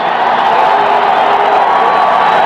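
A stadium crowd at a 1984 USFL football game between the Philadelphia Stars and Birmingham Stallions swells into steady, loud cheering ahead of a third down play, a dense unbroken roar throughout.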